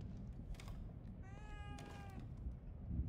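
A cat meows once in a drawn-out, tonal call inside the horror game The Evil Within 2, faint and brief over a low, steady background rumble with no talking.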